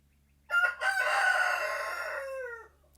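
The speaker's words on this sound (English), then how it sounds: "that's my rooster" A single rooster crows once, loud and close, a rising then long falling call lasting about two seconds in an otherwise quiet farm setting.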